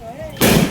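Homemade desi toy gun fired once, a single sharp loud blast that bursts in after a brief quiet moment and rings out for a fraction of a second.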